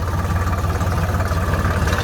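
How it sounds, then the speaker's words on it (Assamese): An ACE tractor engine runs steadily while driving on a broken, rough road, with a continuous low rumble and vibration throughout and no voices. "এইটো ট্ৰেক্টৰ চলাই আছোঁ আজি গাইজ"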